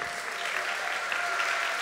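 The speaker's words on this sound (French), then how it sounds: "Luc Gâteau, André-Louis Caillé, Florence Perret nous retrouvent sous vos applaudissements" Steady, dense applause from a ceremony audience as prize presenters come on stage at the Unapei-GMF prize award at a 2025 congress, even and sustained throughout with no break.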